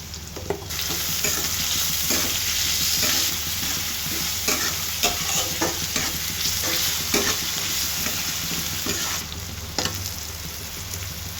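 Onions fry steadily in the oil left from frying meat in a kadai, with whole garam masala added: a constant close sizzle broken by repeated scraping stir strokes, with no talking.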